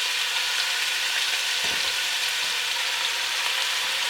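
Pieces of meat for Hungarian goulash browning in a large pot, giving a steady, loud, continuous sizzle from start to finish, with a faint stir or shift of the pieces partway through.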